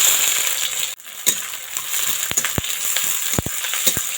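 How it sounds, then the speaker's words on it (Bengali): Chopped onion, whole cumin, a dried chili and bay leaf fry in hot oil in a heated wok. The sizzle is a loud, continuous hiss, punctuated by a few sharp clicks and clatters from stirring. "গোটা জিরে একটা শুকনো লঙ্কা তেজপাতা দিয়ে দিয়েছি পেঁয়াজ কুচি"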